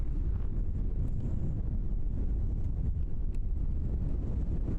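Steady wind buffets the microphone at Christchurch Airport, a continuous low roar that runs unbroken throughout, loud and close, with no voices.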